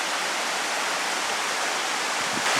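A jungle waterfall in Martinique pours in a steady, loud, broadband rush, close and continuous, with no voices over it.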